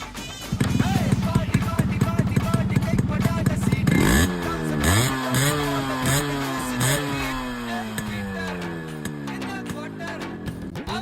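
A Yamaha RX 100 two-stroke motorcycle, offered for sale in good condition, starts up after a few seconds of background noise and idles steadily, with repeated blips of the throttle rising and falling close by.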